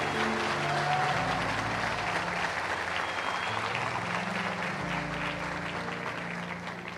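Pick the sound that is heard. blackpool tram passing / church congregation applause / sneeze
church congregation applause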